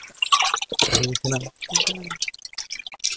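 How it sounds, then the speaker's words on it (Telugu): Raw chicken being rinsed in water outdoors at Gandikota for a kunda chicken cookout, with dripping, trickling and splashing running underneath close, steady talk. "ఇది మా చిన్న చికెన్ కడుగుతున్నాడు ఇప్పుడు."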